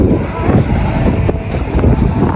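Strong wind buffeting a microphone on a beach at high tide, a loud, continuous rough rumble with gusting swells and no clear talk.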